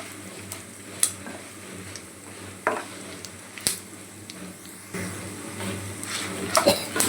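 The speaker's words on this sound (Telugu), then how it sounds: "ఎండుమిర్చి బాగా వేగేవి" Dried red chillies frying in a pan for gongura pachadi, a steady soft sizzle with occasional stirring scrapes and clicks, close and continuous without talk.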